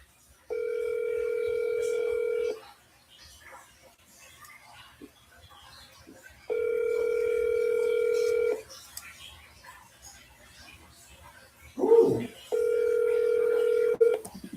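Three evenly spaced steady telephone ringback tones, each about two seconds long and separated by quiet gaps, sounding close and clear, with a brief click or knock just before the last tone.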